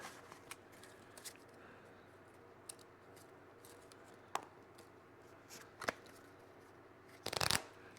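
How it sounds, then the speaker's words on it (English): A deck of cards is shuffled for the Napoleon board game I, Napoleon: quiet riffles and taps at intervals, ending in a louder, longer riffle, close and alone in a hushed room. "first we have to shuffle our deck"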